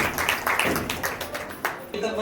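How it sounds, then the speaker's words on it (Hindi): A congregation at a Bible service claps together in quick, even strokes. The claps are fairly soft and a voice speaks over them. "जैसे सभी लोग जोर से तालियां बजाएंगे।"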